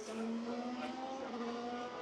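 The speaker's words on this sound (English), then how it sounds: "let me show you the cars flying by quick, and that's a Haas" A Haas Formula 1 race car passes on the Bahrain circuit during practice, heard from a distance as a fairly faint, steady high-pitched engine whine that shifts slightly in pitch as it goes by.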